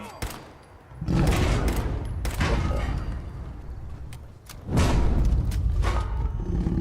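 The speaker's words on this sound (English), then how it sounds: "that's Deathclaw" Loud bursts of roaring and gunfire from a Deathclaw fight in the video game Fallout 4, two heavy surges separated by a dip, dense and close, with a voice briefly under the din.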